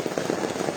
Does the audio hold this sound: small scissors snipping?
no